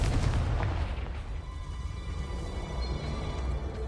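Confringo spell blast in Hogwarts Legacy: a booming fiery explosion with a heavy low rumble that hits first, then settles into a crackling, ringing tail at moderate loudness.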